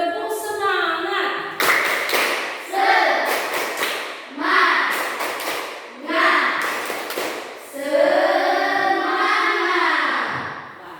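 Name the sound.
class clapping a rhythmic 'tepuk semangat' cheer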